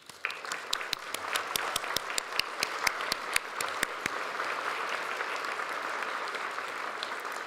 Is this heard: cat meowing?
no